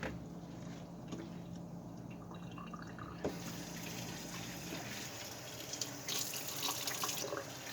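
Tap water runs steadily into a sink, a continuous splashing rush that shifts in tone partway through as the flow changes, filling it to soak fish in salt water.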